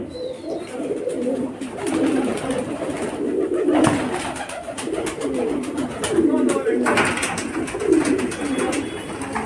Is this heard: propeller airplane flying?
no